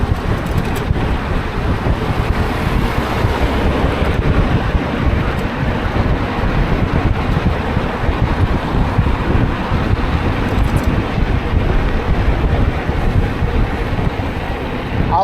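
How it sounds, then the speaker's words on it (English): Hot desert wind buffeting a microphone while riding a bike along the S. Main Varrio bike trail, a loud, continuous roaring rumble that never lets up for the whole stretch. "I like the way the hot wind feels."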